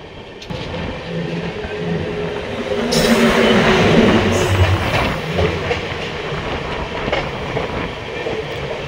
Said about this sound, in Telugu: ఆదిలాబాద్ టు తిరుపతి కృష్ణ ఎక్స్ప్రెస్ అయితే వచ్చింది